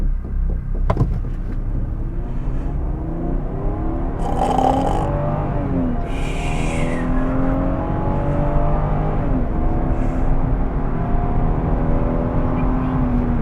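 A Lexus IS300 with a 2JZ-GE engine accelerating hard from a standstill in a 0-60 mph test, heard from inside the cabin as a steady, rising engine drone, with some speech over it.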